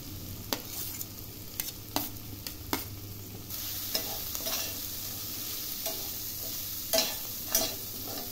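Grated carrot is stirred and fried in a pan for a vegetable keema with cauliflower and green peas. A steady close sizzle runs under repeated clattering scrapes of a spoon, about one every second or so.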